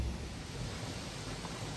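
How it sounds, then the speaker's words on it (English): Heavy rain pours down in a thunderstorm, a loud, dense and unbroken roar of water with a deep low rumble beneath it, close to the microphone and with no voices. "the rain is just falling pretty good"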